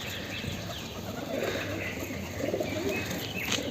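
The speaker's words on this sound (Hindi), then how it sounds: "ये कबूतर अभी छत के ऊपर आया हुआ है" Wild pigeons on a house rooftop, their soft low cooing faint and intermittent against a steady outdoor background hiss, with occasional light chirps and a brief rustle of wings.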